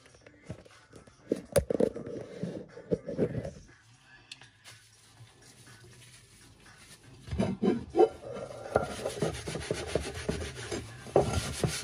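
A frying pan is scrubbed clean with a household cleaning product, giving steady rasping strokes in bursts, a quieter lull midway, then louder and denser scrubbing close up.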